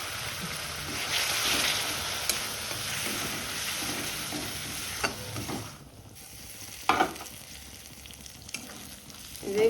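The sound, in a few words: spice masala being sautéed in a pan with water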